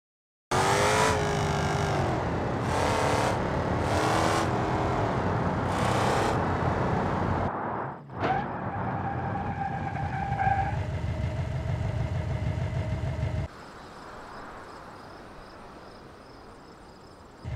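A Ford Mustang in BeamNG Drive revs hard in repeated loud bursts, then drives on with a steady engine drone that drops to a quieter hum near the end.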